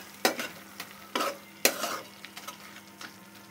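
Cardamom pods and small cinnamon pieces sizzling in oil for a rohu fish curry, a low steady sizzle broken by a few sharp scrapes and clinks of a spatula against the pan, no voices.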